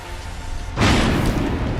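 A heavy thunder boom from a storm in the video game Solar Punk bursts in suddenly after a quiet, low rumbling stretch, then holds as a loud, broad roar to the end.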